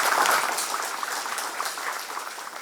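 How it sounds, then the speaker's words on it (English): An audience claps in an auditorium at an international pharmacy conference, a dense burst of applause that starts strong and gradually thins and fades over a few seconds. "give a very big round of applause to welcome Madam"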